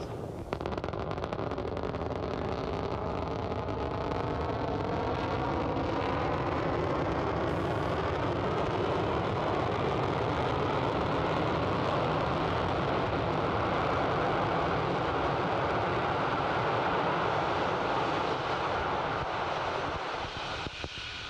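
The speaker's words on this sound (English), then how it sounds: "Now, the landing burn has begun for the Falcon 9 first stage." Powerful continuous roar of a SpaceX Falcon 9 first stage booster's landing burn during a spy-satellite launch from California, a dense rumbling blast that holds steady for the whole stretch with no voices.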